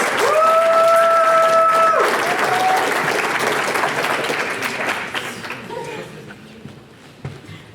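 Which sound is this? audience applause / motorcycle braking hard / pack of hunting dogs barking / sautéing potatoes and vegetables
audience applause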